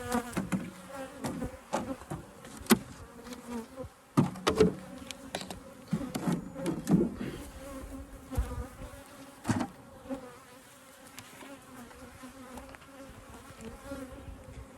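Honeybees buzz around an open beehive, a dense close-up hum with individual insects droning louder as they pass near, rising and falling in irregular swells.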